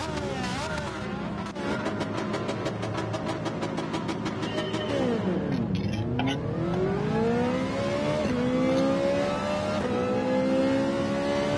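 A Ferrari engine revs hard in Gran Turismo 7, loud and close, rising through the gears with a dip and sweep as it shifts, then climbing again steadily.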